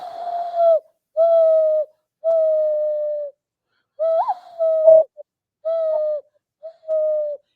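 A person's voice imitates an owl, giving about seven hollow, tonal hoots in an uneven series, each held for roughly half a second to a second with clear pauses between, close and distinct against silence.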